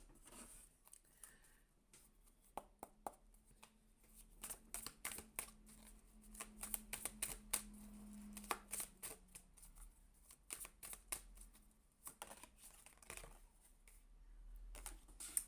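Tarot cards being shuffled by hand, a quiet, close series of irregular papery slaps and riffles in uneven bursts with no talking.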